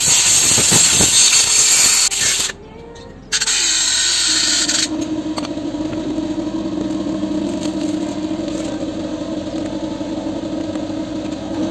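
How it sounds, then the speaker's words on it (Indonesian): A car's diesel fuel filter is sprayed clean with a forceful, close hiss that runs for a couple of seconds, stops briefly, then resumes and continues more softly. "Ini kita semprot."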